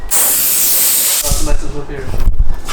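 Tint sprayed onto taped-up car taillights: a loud continuous aerosol hiss for just over a second, then breaking into shorter bursts.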